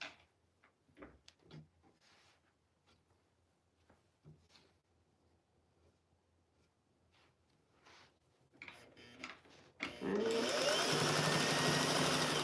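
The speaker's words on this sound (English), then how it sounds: "because right now this is my only zigzag machine too" A zigzag sewing machine stitching rag flannel starts up after scattered small handling clicks and taps, then runs continuously and loud for the last couple of seconds.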